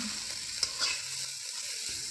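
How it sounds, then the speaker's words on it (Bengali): Fish frying lightly in mustard oil in a pan, a soft continuous hiss of sizzling with a couple of faint clinks, quiet and close with no voices. "মাছগুলো হালকা করে ভাজতে হবে"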